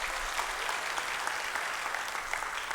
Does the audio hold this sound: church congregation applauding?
yes